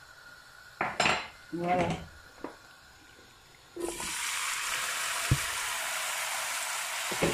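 Utensils clatter against a pot, then marinated onions hit hot oil for poulet yassa and set off a sudden, sustained loud sizzle that keeps going steadily; one short word is spoken.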